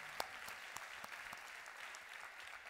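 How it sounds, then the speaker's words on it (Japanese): Audience at a Christian conference in Japan applauds as the host comes on stage, a steady wash of many hands clapping, fairly distant and even, with a few sharper claps standing out. "Give a big clap."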